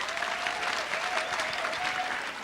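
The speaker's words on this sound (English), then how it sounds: "Huge round of applause to you guys," Sustained audience applause for the parents at a school show's curtain call and finale, a dense, steady clapping that fills the hall evenly throughout, with a faint voice murmuring beneath it.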